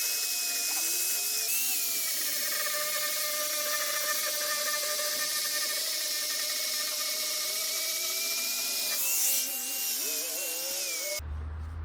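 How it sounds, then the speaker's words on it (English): A high-pitched angle grinder with a flap disc whines steadily as it grinds pallet wood, droning continuously with slight shifts in pitch before cutting off at the end. "I'm going to go ahead and just hit it with my flapper disc."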